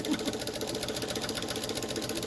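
A sewing machine stitching Christmas tree bunting runs steadily and close, its fast even needle chatter continuing unbroken throughout with no voice over it.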